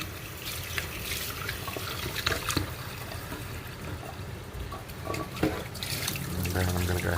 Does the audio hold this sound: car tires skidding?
no